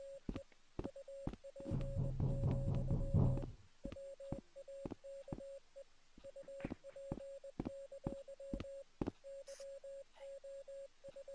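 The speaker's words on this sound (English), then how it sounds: "Am I going crazy or am I not y'all hearing Morse code?" Morse code beeps from a video game play out as short and long tones in uneven groups, faint and steady across the stretch, briefly joined by a louder burst of buzzing noise near the start.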